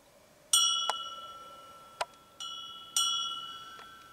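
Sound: sacristy church bell chimes

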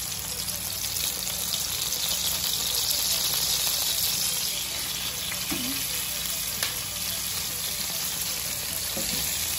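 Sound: sauce with ketchup and vinegar simmering in a pan

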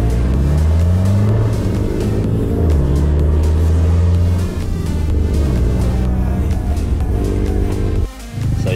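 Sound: vehicle accelerating hard and popping a wheelie

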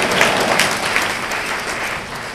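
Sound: audience clapping

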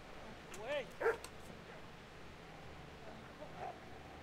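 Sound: dog barking in the video game Kingdom Come: Deliverance

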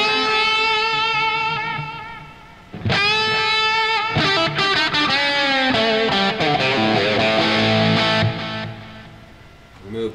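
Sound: electric guitar amp with delay effect

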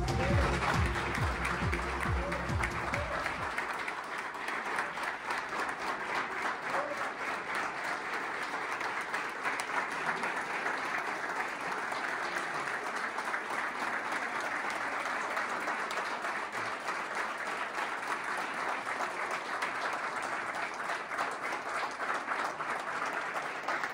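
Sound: applause welcoming YPF head at Río Negro Energy Secretariat

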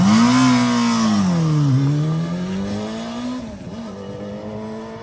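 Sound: 1988 Honda CBR250R motorcycle engine revving

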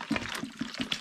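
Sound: spring water poured onto dark grains for home-brewed porter

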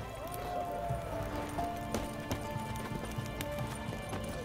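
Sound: Roach the horse galloping, from The Witcher 3 video game

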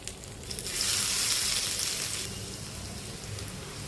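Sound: fish pieces shallow-frying in oil in a pan

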